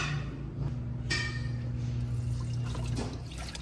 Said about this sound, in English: And we're gonna let that drain out.